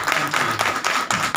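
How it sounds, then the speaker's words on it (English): A crowd applauds, many hands clapping together in a dense, steady patter that holds throughout. "can I just give a round of applause to the kids who are up here?"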